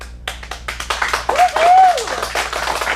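Scattered audience clapping after a kids' acting showcase performance at a Phoenix acting studio, a small room of hands applauding with a brief cheer and voices mixed in.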